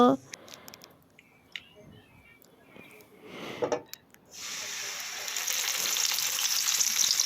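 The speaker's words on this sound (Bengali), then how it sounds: "দেখো মশলাগুলো সব তেলের মধ্যে দেওয়া হয়ে গেল" Spices drop into hot oil and burst into a loud, bright sizzle that swells and holds steady after a quieter stretch of scattered clinks and rustling at the start.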